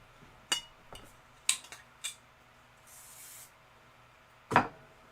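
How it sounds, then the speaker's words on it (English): Short hissing burst of aerosol spray from a can aimed at fabric pieces during a quilting sew-along, standing out among light clicks and taps from sewing tools and scissors nearby. "I'm going to give them a shot of spray just because I can"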